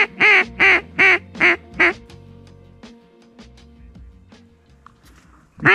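Five loud, close duck quacks in quick succession ring out at sunrise during a mountain duck hunt in Idaho, followed by quieter background sounds and a brief faint call before another quack at the end.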